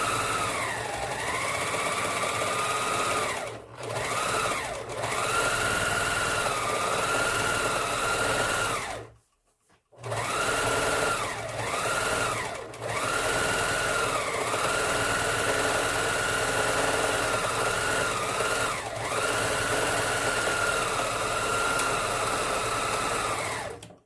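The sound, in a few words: Singer Finishing Touch serger sewing fabric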